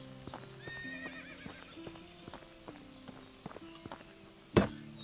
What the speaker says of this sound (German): Das Pferd, ne, das ist so oft am Wiehern und am Schnauben und am Tun.